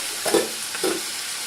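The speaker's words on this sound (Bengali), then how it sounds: "এটা আস্তে আস্তে ভাজা হোক একটু ভাজা হলে তারপরে নুন দেব" Food fries in a pan with a steady close sizzle, broken by two quick scraping stirs of a spatula, with no talking.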